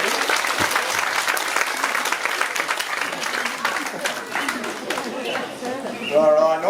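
Audience clapping at a crocodile show in a wildlife park, a sustained round of applause from the crowd with voices mixed in and a bird call near the end.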